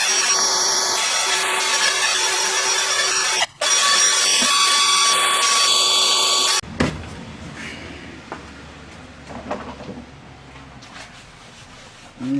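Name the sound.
scrubbing engine piston top with Scotch-Brite pad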